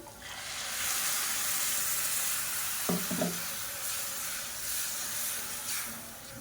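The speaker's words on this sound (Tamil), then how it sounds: "இப்போ இந்த ஸ்டேஜில் நம்ம அரைச்சி வச்சுருக்க அந்த தக்காளி சேர்த்துக்கலாம்." Ground tomato for a tomato chutney hits a hot pan and sizzles steadily, a soft continuous frying hiss with a brief clatter of stirring midway.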